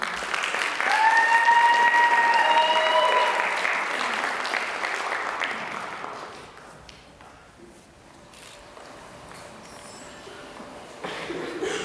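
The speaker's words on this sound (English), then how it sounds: "For a big round of applause" An audience at a Native American university pageant applauds a contestant, a full, loud burst that fades after about six seconds, with brief cheering tones at the start and quieter room noise and a voice afterward.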